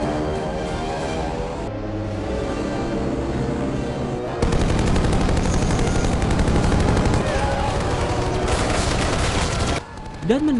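Gunfire in a scene from The Expendables, with dense bursts of machine-gun fire and heavy shots over a loud, busy action soundtrack.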